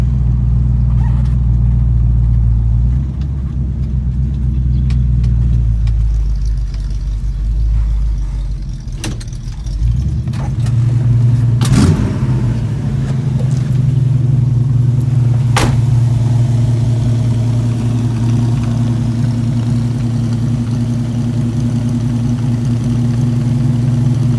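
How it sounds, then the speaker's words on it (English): A 400 HP engine from a 1977 Chevy C10 squarebody runs outside the truck on a slab, idling with a deep, steady rumble, close and loud, with a few throttle blips and clicks partway through. "I'll just pull on the slab here so you can hear it while it's outside the truck, hear it running."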